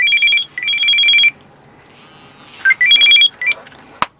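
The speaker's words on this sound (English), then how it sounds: "My phone decides it wants to ring." A mobile phone rings in an RV kitchen during Dutch oven cooking of an Easter ham, a repeating electronic ringtone sounding in two bursts with a gap between, loud and close, followed by a sharp click.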